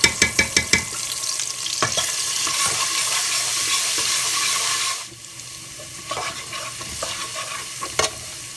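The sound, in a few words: whole garam masala and ginger-garlic paste sizzling in pan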